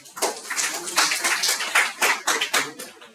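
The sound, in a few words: students clapping in class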